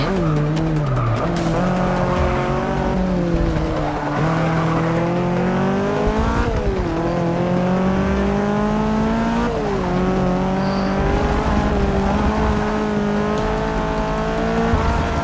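A Toyota race car in the video game Forza Motosport 6, its loud engine droning continuously through rising and falling gear changes, with tires squealing through corners, no voices.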